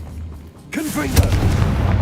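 A Confringo fire-blast spell going off in Hogwarts Legacy: a sudden booming burst after a near-silent lead-in, followed by a sustained rumbling, crackling roar that stays loud to the end.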